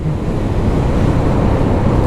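The flooded Alaknanda river rushes past with high water, a loud, continuous broadband roar mixed with wind buffeting the microphone, with no voices.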